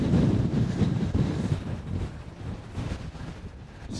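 Wind buffets a microphone on an exposed mountain ridge in the Fisherfield Munros of the Scottish Highlands, a steady loud low roar with gusty swells and no voices.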